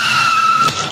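A cartoon motorbike brakes hard and skids in a Bangla 3D comedy animation: a sharp, steady, high tire squeal runs loud for most of a second, then cuts off abruptly.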